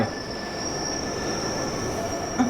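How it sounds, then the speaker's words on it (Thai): A train in the Roblox horror game The Last Stop, set aboard a train looping endlessly on its way home: a steady rumbling ride with a thin, sustained high wheel squeal and a small clack near the end, with no voices. "เสียงรถไฟ"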